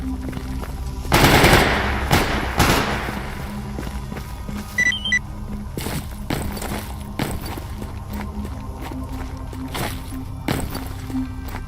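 Rapid machine-gun fire rattles in a shooter video game, a loud burst of bursts near the start followed by scattered shots and clatter continuing through the rest.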